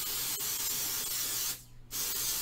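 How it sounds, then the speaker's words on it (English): An aerosol spray can sprays lightly over fingernails to remove gel polish, giving a steady close hiss that stops briefly and then resumes, with no talk. "Hold can spray 6 to 8 inches from hand. Spray lightly over each nail."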